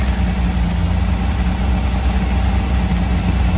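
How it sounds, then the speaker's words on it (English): A vintage truck engine idles continuously and loudly nearby, a steady rough rumble with constant vibration and no pauses or voices. "It's actually not even idling that bad."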